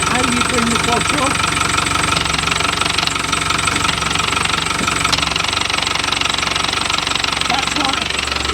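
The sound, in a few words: Land Rover Defender 110 noisy clutch with engine running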